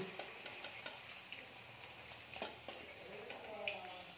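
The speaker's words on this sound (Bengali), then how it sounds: "পনিরগুলো আমরা একটু হালকা লালচে করে ভেজে নিই" Paneer frying in a pan, a soft steady sizzle with light clicks and stirring taps, faint and close, without speech.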